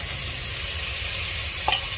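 Small onions fry together with sautéed tomatoes for a crab soup, a continuous close sizzle broken by a brief metallic scrape of a utensil near the end.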